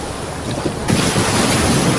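Strong ocean waves crash with loud broadband surf and wind noise, the roar swelling sharply partway through, heard alone on rough, murky water near fishing nets.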